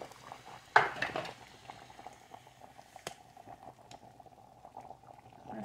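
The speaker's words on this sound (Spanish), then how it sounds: "Ahí ya están hirviendo." Plantains boiling in a pressure cooker pot for Salvadoran plantain empanadas, a steady low bubbling simmer with a brief clatter of the pot near the start and a sharp knock around the middle, no talk.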